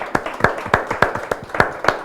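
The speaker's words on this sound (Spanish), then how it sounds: "Otro aplauso para Sergio." An audience applauds a digital marketing deputy manager at a Banco de Chile content marketing event: sharp, distinct hand claps in a loose, steady rhythm, fairly close and loud, with no talk over them.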